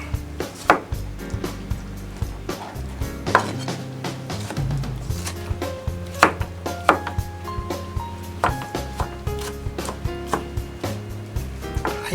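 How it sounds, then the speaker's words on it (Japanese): Steady knife chopping of tomatoes on a cutting board, quick regular taps repeating throughout, close and clear with a faint musical backing. "そしてそこにトマトを細かく切って入れます。"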